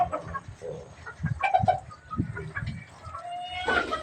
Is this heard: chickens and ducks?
yes